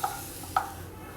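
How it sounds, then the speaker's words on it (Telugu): Green chillies fry in a pan while being stirred, giving a soft steady sizzle with two brief scraping stir strokes, close and fairly quiet, with no talk. "గ్రీన్ చిల్లీ అన్నీ కూడా పచ్చివాసన పోయేంత వరకు ఫ్రై చేసుకోవాలండి"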